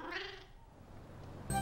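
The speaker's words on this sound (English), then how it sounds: "Silly cat." A cartoon cat meows once, a short, fairly loud mew at the very start, followed by quiet room tone and then a sudden bright musical sting at the end.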